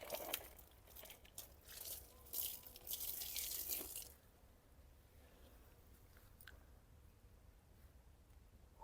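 Water splashes and pours over potted plant leaves, washing soil off them, loud and splattery for about four seconds before settling into a faint, steady trickle.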